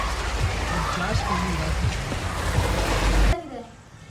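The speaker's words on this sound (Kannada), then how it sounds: "ಮಳೆ ಎಷ್ಟು ಜೋರಾಗಿ ಬರ್ತಿದೆ ಅಂದರೆ ಕರೆಂಟ್ ಬೇರೆ ಹೋಯ್ತು ಇವಾಗ" Heavy rain pours down in a steady, close, dense hiss, then drops off abruptly near the end to a quieter patter.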